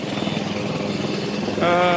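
A helicopter lifts off again while officials clear people from the area, its loud, steady rotor and engine drone filling the scene with a voice speaking over it.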